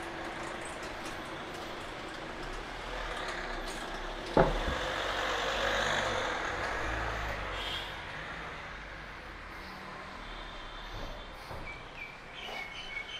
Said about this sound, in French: Ah, il y a une voiture, je vais être obligé d'enlever la caméra